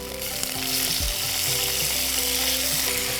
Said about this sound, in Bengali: পরে টমেটোটা দেব।